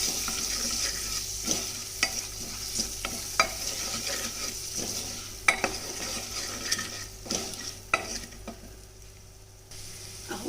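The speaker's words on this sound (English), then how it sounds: "Saute it in the tempered oil" Washed and drained dal sautéing in tempered oil, a soft continuous sizzle with frequent scraping and clinking of a spoon against the pot, close and moderately quiet.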